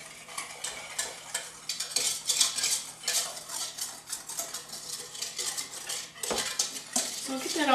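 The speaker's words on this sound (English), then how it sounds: "And then whisk this together and it will form a paste." A whisk scraping and clinking briskly against a saucepan while sugar and cocoa powder are stirred into a paste, rapid irregular metallic ticks and rubs, close but fairly quiet, with no voices.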